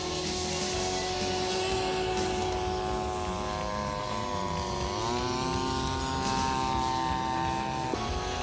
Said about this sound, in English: Watch closely as this version of the Ryan flies by our tower camera